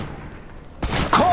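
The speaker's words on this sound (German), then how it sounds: "Die schießen auf mich!" After a quiet moment, a sudden burst of gunfire erupts in the strategy game Iron Harvest, loud sharp reports and a thudding boom clustered close together.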